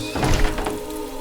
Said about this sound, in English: They slam doors.